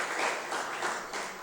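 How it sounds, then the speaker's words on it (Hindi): An audience at a Hindi poetry recital claps together for the host, a dense, continuous roomful of applause that swells and dips slightly over its brief length. "एक बार दोनों हाथ उठा के भैया के लिए जोरदार तालियां बजा दीजिएगा"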